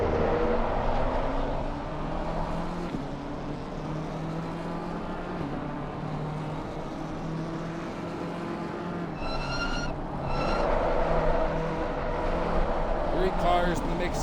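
BMW Sim Pacer race car in a racing video game at Red Bull Ring, heard from the onboard chase cam as a steady engine drone with shifting harmonic pitch, under continuous commentary, amid a three-car battle for position.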